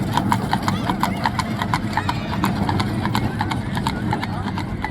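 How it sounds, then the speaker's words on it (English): Horses walking in the streets of Colonial Williamsburg, Virginia, their hooves clip-clopping in a steady, fairly close rhythm over a low background murmur, with people talking nearby. "Beautiful horses."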